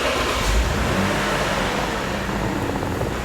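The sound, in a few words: Lexus car engine starting and revving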